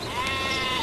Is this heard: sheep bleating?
yes